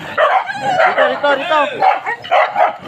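Several dogs bark and yip excitedly close by, overlapping with talk; short sharp barks mixed with whiny yelps throughout.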